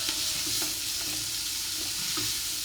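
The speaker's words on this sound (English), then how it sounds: "That sizzling is a great sound" Vegetables and garlic sautéing for ciambotta in a pan, a steady close sizzle and hiss with occasional soft stirring scrapes and pops, loud and continuous with no talking.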